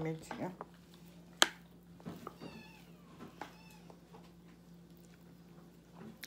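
Several cats meow in a faint series of short calls against a quiet room, with a person speaking intermittently and a sharp click in between.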